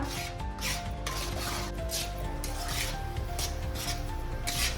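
Steel spoon scraping and stirring a thick amla and jaggery mixture in a steel kadhai, with continuous rubbing and metallic scrapes that sound close and steady throughout.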